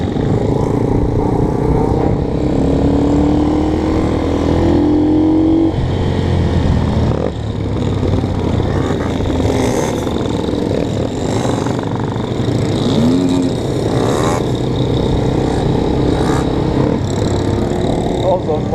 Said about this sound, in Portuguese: Olha o tanto de moto que tem